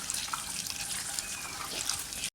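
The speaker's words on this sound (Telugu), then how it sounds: "స్ప్రౌట్స్ అయితే ఇక కడిగేసుకుందాం, కొంచెం వాష్ చేసుకొని వేసుకోవాలి." Tap water runs steadily over sprouts being rinsed in a kitchen, a close, continuous splashing hiss with no one talking.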